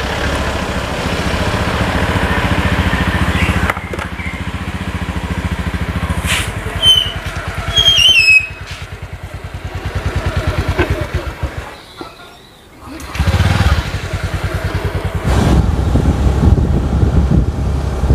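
A motorcycle rides along a road toward a market, its engine a steady low drone buffeted by wind rumble on the microphone, with a brief dip midway and faint bird chirps above.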